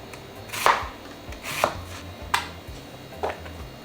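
A kitchen knife slicing beef into thin pieces for pho on a cutting board: four distinct sharp chops spaced about a second apart, close and clear against a quiet background.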